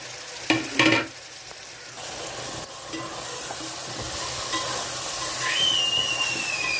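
Okra, tomato, green chilies and curry leaves drop into a hot pan of frying curry. A few sharp clattering knocks come first, then a loud, continuous sizzle with steam and stirring carries on without talk.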